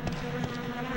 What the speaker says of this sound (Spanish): ¿Qué son estos bichos? Voladoras, no quiero moscas voladoras.